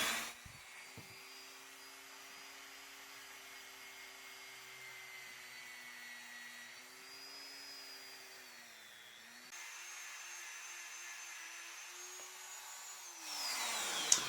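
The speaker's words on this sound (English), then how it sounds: "Yeah, I could just jump right in and start sanding." A steady high-pitched whine of a small rotary tool sanding a Star Wars Rebels action figure, running continuously, its pitch dipping and rising slightly as it works, then briefly louder at the end.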